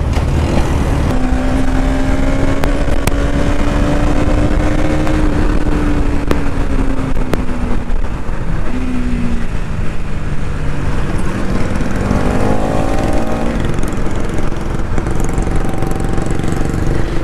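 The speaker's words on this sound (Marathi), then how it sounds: "ये पल्सर जो एक ऐसी बाइक है जिसको आप जितना भी थ्रॉटल दो आपकी" A Bajaj Pulsar NS200 motorcycle engine runs loud and close, its pitch climbing and falling through repeated revs over a constant mechanical roar, with no talking.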